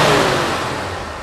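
A 1981 Jeep CJ5 engine runs after decades of sitting, a rough steady rumble heard close and fairly loud, fading slightly over the brief moment.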